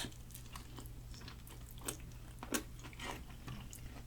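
Close, soft chewing and biting of a spicy Korean gochujang dish sweetened with sugar, with a few crunchy bites standing out over a low steady hum, no talking.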